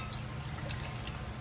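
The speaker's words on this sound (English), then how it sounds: "first we're gonna fill the cups with room temperature water to get the right measurement" Room temperature water poured into small coffee cups for Turkish coffee, a faint, steady liquid trickle lasting the whole short stretch with a low hum beneath.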